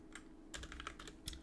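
Quiet typing on a computer keyboard while writing a script in Roblox Studio: a soft burst of a few rapid close key clicks, then a pause and a couple more taps.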